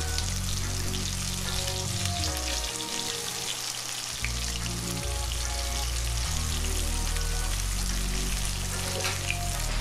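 Fish frying in vegetable oil at 350 degrees, a constant dense crackling sizzle close up, with a low background hum continuing beneath the bubbling oil.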